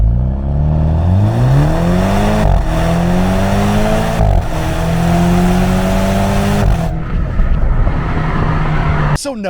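A BMW Z4 in Sport Plus mode accelerates hard from a standstill toward 60 mph, its engine note climbing through several rising sweeps with brief dips at each gearshift, loud and close, before easing off near the end.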